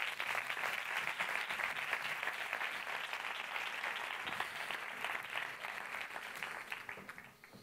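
Sustained audience applause at a film festival closing gala in Benalmádena, greeting the town's culture councillor as she comes up; dense, steady clapping from a large crowd that thins slightly toward the end.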